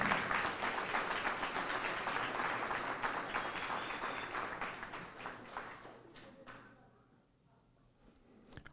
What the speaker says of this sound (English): let's all have a big round of applause for all of our distinguished Dragons of